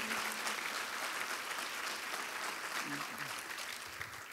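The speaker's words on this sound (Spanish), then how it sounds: "Vamos, un fuerte aplauso al Señor" A church congregation applauds in a steady, fairly distant wash of clapping that holds for about four seconds, with a faint voice briefly heard beneath it.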